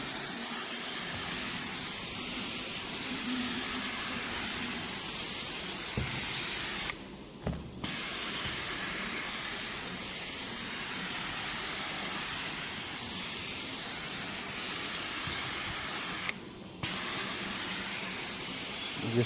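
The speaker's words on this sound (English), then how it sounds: "let me finish up pre-spraying" A carpet cleaning pre-spray sprayer hisses steadily for a long stretch, cutting out briefly twice before resuming, with a low mechanical hum underneath.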